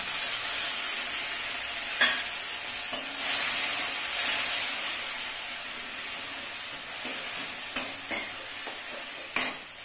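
Spice paste hits a pan of softened, lightly browned onions for mushroom curry, producing a loud, even, hissing sizzle, with a few spoon clicks toward the end.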